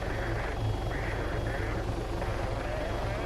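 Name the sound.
helicopter flying and hovering in video game Arma 3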